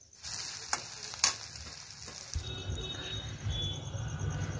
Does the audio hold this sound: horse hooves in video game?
no